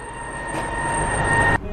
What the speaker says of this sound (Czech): z první koleje odjíždí vlak